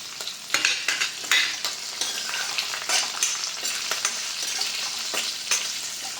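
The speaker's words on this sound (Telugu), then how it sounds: "వీటిని బాగా వేయించుదాము ఒక్క నిమిషం ఇలా వేగనిచ్చి" Cumin and coriander seeds fry in a hot pan with a loud, close, steady sizzle, broken by repeated scraping strokes as they are stirred.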